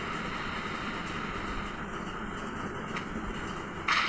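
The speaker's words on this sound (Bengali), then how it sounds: "ওই যে দূর থেকে ট্রেন আসছে" A train approaching along a railway line near a station, a steady distant rumble of rail noise that holds evenly throughout with no talk.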